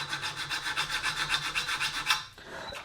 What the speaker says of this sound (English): Do a little bit of filing at this point, check it.